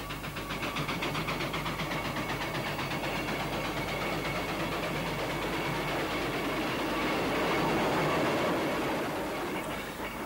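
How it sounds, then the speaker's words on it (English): A steam traction engine, the Duke of Kent, rumbles along a road on a run, a continuous heavy mechanical drone with faint rhythmic clicking, steady and fairly close throughout. "It's always nice to see traction engines on the road."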